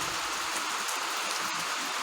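Steady rain falling outdoors at a work site where excess soil is being cleared from a cracked, slumping covered platform, a dense, even hiss of drops close by with no voices.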